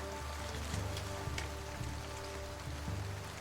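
Heavy rain pours down steadily, a dense broadband hiss of drops hitting surfaces with a low rumbling undertone, continuous and close with no voices.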